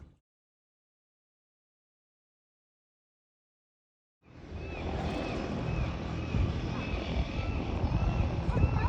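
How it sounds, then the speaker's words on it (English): A plane that has just landed at Fisherman's Wharf in Victoria, its engine or propeller drone starting abruptly after a silent stretch and holding at a moderate, steady level with a faint whine riding on top. "This plane just landed."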